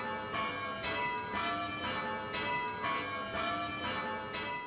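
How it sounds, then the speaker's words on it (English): Several church bells in York ring changes in a repeating sequence, each stroke blending into a steady pealing rhythm, loud and reverberant. "when a collection of bells together are all moving in these different directions, we call that change ringing"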